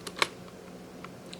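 A few quiet, sharp clicks from fingers pressing ZX Spectrum keyboard keys, with one sharper tap early and scattered lighter presses after it.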